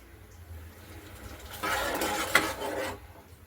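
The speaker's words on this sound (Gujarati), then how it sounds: "આ રીતે પાણી એડ કરી દઈશું." Water splashes and pours steadily into a pressure cooker of undhiyu for about a second and a half, loud and close, with faint clinks around it.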